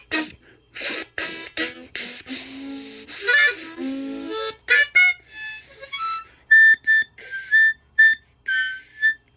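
A harmonica under repair gives off thin, reedy whistling tones, starting with breathy, wavering notes and then settling into short, repeated high whistles. The blasts come close and at moderate loudness with brief gaps between them.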